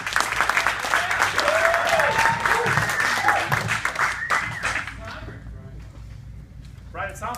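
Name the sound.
audience applauding and cheering for Brian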